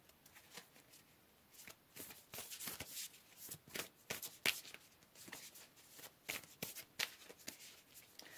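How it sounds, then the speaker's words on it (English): Tarot cards are shuffled and handled close up in a steady run of soft riffling flutters and slaps, with a few sharper card snaps, quiet and continuous. "So let's pull another card, group number 4."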